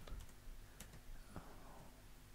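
Faint, quick keystrokes on a computer keyboard as a command is typed, a short burst of soft clicks at close range.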